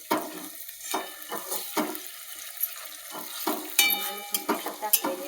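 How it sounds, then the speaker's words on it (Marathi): Onion and ginger-garlic paste frying in a pan for pav bhaji, with soft sizzling, scraping and stirring clatter in irregular bursts at close range, no talk. "आलं लसूण पेस्ट चांगली 5 मिनिटं 10 मिनिटं चांगली भाजून घ्यायची."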